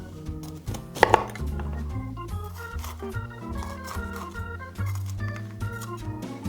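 A knife dices red capsicum on a cutting board for Hungarian goulash, giving soft, quick chopping taps in short runs that are partly buried under background music.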